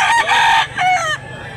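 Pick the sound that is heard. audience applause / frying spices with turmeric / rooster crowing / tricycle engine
rooster crowing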